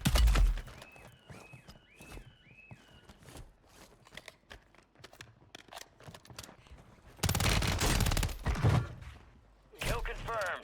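Bursts of automatic gunfire and sharp shots ring out in the video game Call of Duty Warzone 3, with loud stretches near the end, alongside in-game voice callouts and mechanical clicks.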